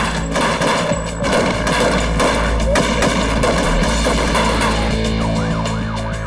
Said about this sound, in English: The heavily armed kidnappers see only the 2 officers and open fire.